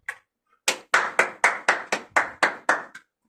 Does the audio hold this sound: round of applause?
yes